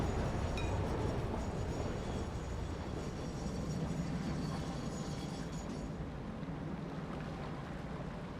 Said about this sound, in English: Here comes another green train,